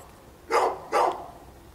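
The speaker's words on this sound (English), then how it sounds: "It's my neighbor's dog" A neighbor's dog gives two distinct barks about half a second apart, heard at a moderate distance with no talking.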